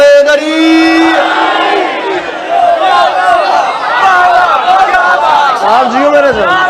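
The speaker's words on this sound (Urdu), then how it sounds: "مل کے نعرے حیدری" A large crowd at a 12 Rabi ul Awal Eid Milad un Nabi gathering loudly chants the Naara-e-Haidari slogan in unison, a dense roar of many voices filling the space throughout.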